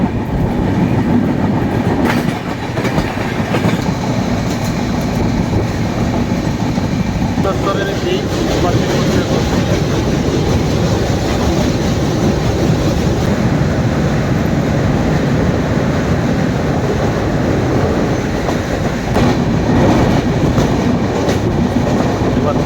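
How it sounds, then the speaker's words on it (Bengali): Train on the Kolkata to Darjeeling route running along the rails: a steady, loud rumble with rhythmic clattering of wheels on rail joints, close and continuous throughout, and voices talking over it. "সেখানে আমাদের ট্রেন হল্ট নেই।"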